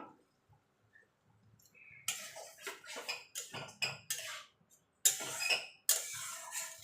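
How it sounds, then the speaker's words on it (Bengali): A mixer jar is rinsed and the water poured out in a kitchen while cooking okra: a quiet start, then bursts of splashing and clattering with short pauses, growing louder near the end. "মিক্সির জারটা ধুয়ে জলটা দিয়ে দেবো"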